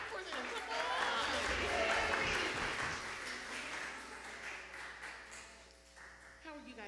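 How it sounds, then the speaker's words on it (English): A church congregation at Sunday worship claps for children called up front, a soft, scattered round of applause that fades gradually while voices talk over it. "Clap for them."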